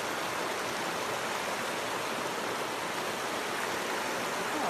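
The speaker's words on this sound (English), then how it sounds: "We have a little waterfall." Small waterfall and stream in the Zion Narrows canyon, a close, steady broadband rush of falling and flowing water that stays constant throughout with no voices.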